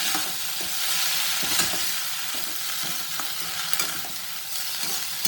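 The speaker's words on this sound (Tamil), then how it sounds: "அணைச்சிட்டு ஒரு நாலஞ்சு தடவை அதை கலவிடுவேன்" A curry leaf and garlic mixture stirred in a hot pan just after the stove is turned off, a steady close sizzle with repeated scraping strokes of a spoon, loud and alone with no voices.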